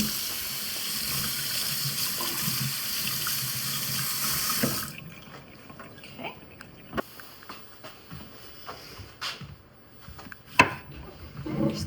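Onions rinsed under a running kitchen tap, a steady rush of water into the sink for several seconds, then the flow stops, leaving soft handling clicks and knocks.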